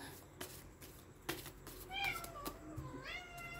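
A male cat gives several soft, sweet meows, each rising and falling in pitch, close but fairly quiet, with small clicks and light background noise between calls.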